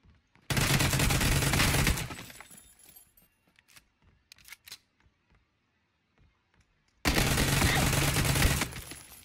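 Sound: gunfire in the video game PUBG

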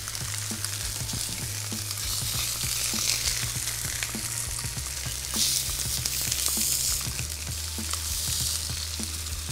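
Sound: potatoes frying in a pan

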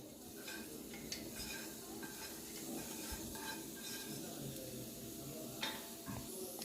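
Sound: chopped onions frying in oil

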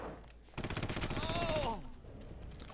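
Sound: gunfire from the video game Red Faction Remastered

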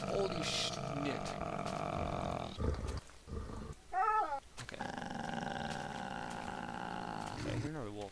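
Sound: lion roaring in Minecraft, a video game

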